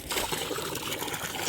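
Water runs into a horse's trough, a steady close rushing and splashing that carries on without a break and without voices.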